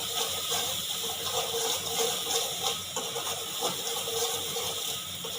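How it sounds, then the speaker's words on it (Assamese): Water is poured into a frying pan of turmeric and cumin powder, making a continuous splashing gush over a steady sizzle, close and moderately loud. "এতিয়া মই ইয়াত অলপ পানী দি দিছোঁ"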